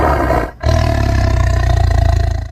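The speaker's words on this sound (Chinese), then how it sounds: "这是东北虎，它的叫声是这样的。" A Siberian tiger roars loudly and close, one deep rumbling burst cut short, then a longer throaty, pulsing roar after a brief gap.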